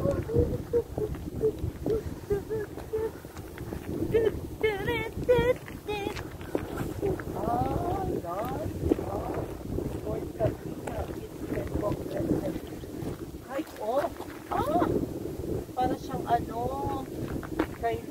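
Strong autumn wind at Fort Sabina buffets the microphone with steady rumbling gusts throughout, while people talk over it.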